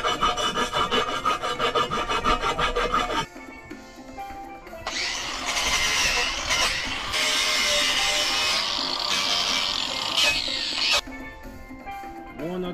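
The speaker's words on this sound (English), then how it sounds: "that's the way I'm gonna sand all the holes to clean them up" Holes in an aluminum dinghy davit being sanded clean: steady, close rasping and rubbing that runs continuously, with a brief shift in tone partway through as the abrasive moves to a different spot.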